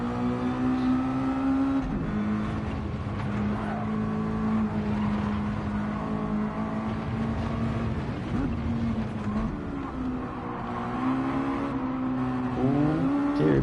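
On-board engine of a GT2/GT3 race car at the Abu Dhabi circuit in a sim racing game, a loud sustained drone that rises and falls with throttle and gear changes, close and continuous with no voices.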